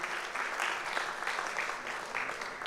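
An audience of about 400 entrepreneurship students at Chapman University gives a steady round of applause, dense and sustained clapping heard from within the room.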